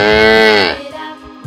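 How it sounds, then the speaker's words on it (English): A wildebeest call from a toy animal: a loud, drawn-out, moo-like bellow lasting under a second, followed by a few softer grunting sounds. "Wildebeest."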